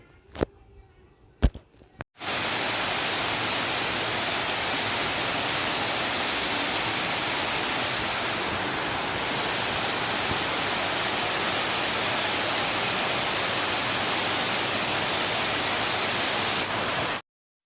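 Rain falls in a steady, dense wash of hiss that stays unbroken and even for about fifteen seconds, after a short, quieter opening marked by a few sharp knocks.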